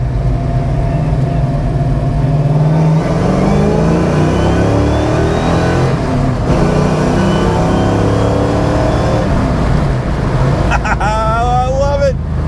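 A car with a 347 engine revs hard through a long pull, the loud roar climbing steadily in pitch, then easing off as a short burst of rising whine closes it out.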